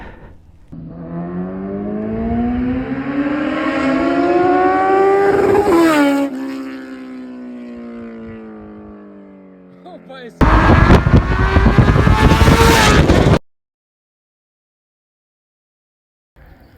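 A Kawasaki Z900 motorcycle engine revs up in a long rising climb, drops back, then roars loud and close in a harsh burst before cutting off abruptly. A short silence follows.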